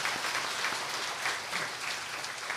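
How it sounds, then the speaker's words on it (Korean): A church congregation at a Sunday service claps steadily in encouragement, a dense, even patter of many hands heard at a modest distance with no voices over it. "박수로 격려의 박수를 드립니다."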